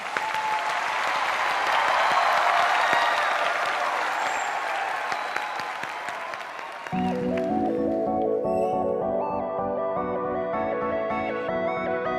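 A crowd of fans claps loudly for an idol group at a live idol event, steady applause that fades after about seven seconds as a pop backing track with synth melody and beat starts up.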